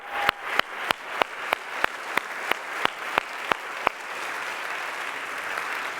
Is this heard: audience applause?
yes